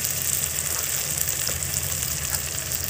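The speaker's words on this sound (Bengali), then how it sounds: "কাশ্মীরি লঙ্কার গুঁড়োটা দিয়েও ভালোভাবে কষিয়ে নেব" Kashmiri chili powder fries with onion and tomato in hot oil, a steady close sizzle with light crackle that holds unbroken throughout.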